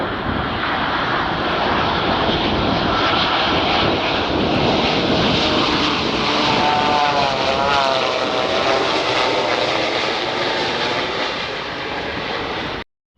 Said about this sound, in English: This is known as ram air turbine.